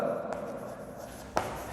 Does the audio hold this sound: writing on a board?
yes